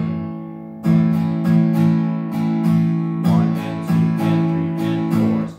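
Acoustic guitar strummed in a beginner rhythm pattern, with regular downstroke accents and short gaps between chord hits, close and fairly loud, with no voice.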